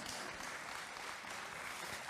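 A congregation claps after a line in a Sunday sermon, with faint, distant applause forming a soft, steady wash of clapping and no speech.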